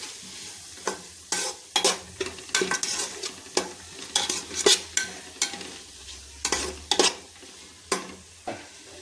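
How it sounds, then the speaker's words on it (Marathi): Prawn biryani masala is stirred in a pan, a close series of rhythmic scraping strokes of a spoon against the metal over a soft sizzle, with scattered clinks and no talk. "हे सगळं मिक्स करून घेणार आहोत."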